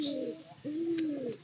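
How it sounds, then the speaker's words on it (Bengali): A pigeon coos close by in two drawn-out, throaty phrases, the second longer and steadier, against quiet room background. "এই কবুতর হলো পায়রা কবুতর"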